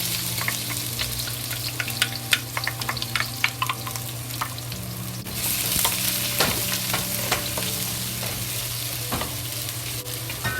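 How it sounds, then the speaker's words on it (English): Ginger, onion and garlic frying in hot oil in a pot, a steady close sizzle with stirring scrapes and clatters throughout, growing louder partway through. "slowly fry until the ginger, garlic, and onions release a good smell"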